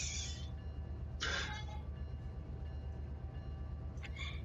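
A freight train starts to roll in the Run8 train simulator video game. A faint, low, steady rumble runs throughout, with a few brief hissing bursts over it.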